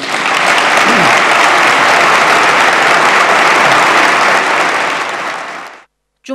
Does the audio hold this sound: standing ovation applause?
yes